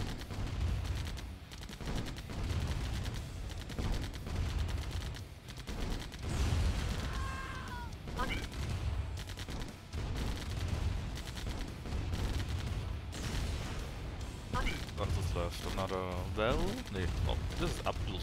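Command & Conquer Remastered units shooting at a church, with scattered bursts of gunfire and mechanical battle noise at moderate distance, while a voice talks over parts of it and electronic unit chirps appear.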